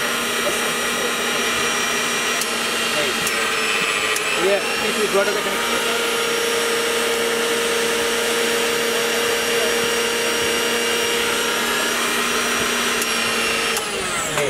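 A Dessinie electric blender running loud and steady, its motor whirring without a break, the pitch shifting briefly partway through.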